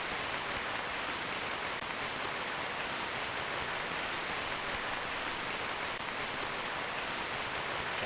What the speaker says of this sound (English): The rain runs fast into the smoldering cover, set into the pavement.